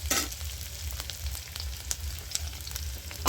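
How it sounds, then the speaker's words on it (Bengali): Potato, eggplant and bean pieces frying with onion in hot oil, a steady close sizzle with occasional faint stirring ticks. "সবজিগুলো আমি ভালো করে ভেজে নেব"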